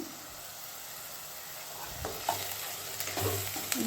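Green chillies and curry leaves fry in oil in a pan, giving a soft, steady sizzle that swells slightly later on, with a few scraping stirs of a utensil and no speech.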